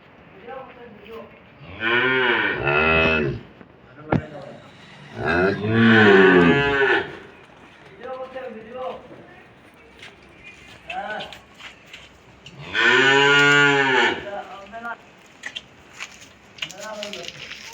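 A dairy cow, a milking cow separated from its calf, gives several loud, long, close moos with pauses between them, and quieter voices talk in the gaps.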